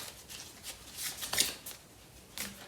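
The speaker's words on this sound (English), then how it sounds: "And I'm going to pull out a card for this overall reading." Tarot cards are shuffled by hand and one is drawn, giving soft riffling bursts and flicks close by, faint and uneven, with no speech.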